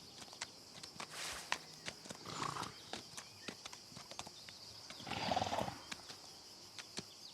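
A family of miniature donkeys moves about nearby, with light hoof steps and clip-clops scattered through the scene and a couple of louder rustling bursts, under a faint outdoor background.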